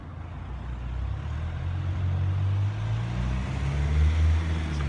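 Road traffic at a signal-controlled junction, with vehicle engines rumbling low and steady as cars move off and hit a deep pothole; no distinct impact stands out, only continuous engine and road noise.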